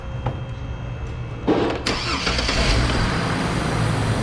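A car engine cranks with a brief churn, catches and fires, then settles into a steady idle, fairly close and loud, after a quiet hum at the start.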